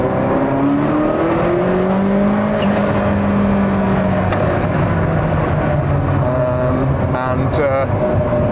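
A Ferrari F40 engine revs up and down loudly and close, nearly to the red line, the pitch sweeping high then settling, with a brief voice partway through.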